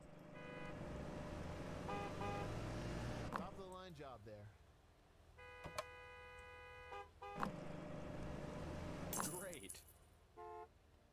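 Car horns honk repeatedly in a busy gas station within the Gas Station Simulator video game, several steady tooting blasts of varying length cutting over background engine noise, with game sounds in between.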